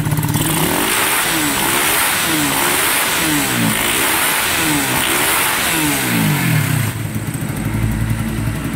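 A repaired motorcycle engine from a 2021 model bike with a slightly loud pipe revs repeatedly, rising and falling in roughly rhythmic throttle blips close by, loud and continuous before settling toward idle.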